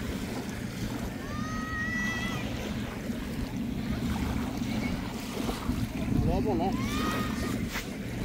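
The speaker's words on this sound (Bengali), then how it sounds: "শন শন শব্দ, সাথে সাগরের গর্জনেরও শব্দ" Wind and rolling surf at an Arabian Sea beach in the midday heat make a steady low roar, with a few brief whistles or calls rising above the noise.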